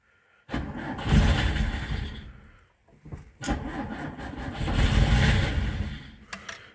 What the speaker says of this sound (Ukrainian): Холодний пуск, подсос треба винімати, хоч і літо